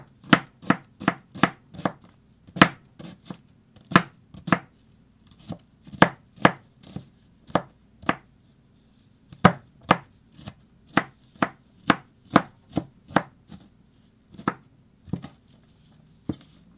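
A knife finely chops an onion on a cutting board, giving about thirty crisp, close knocks in a steady, slightly uneven rhythm with brief pauses and no talking.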